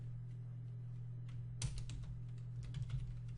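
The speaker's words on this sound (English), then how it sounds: "let's type in the rest of this line" Keys clatter on a computer keyboard while code for a Minecraft plugin is being typed, a brief run of close, quick clicks over a steady low hum.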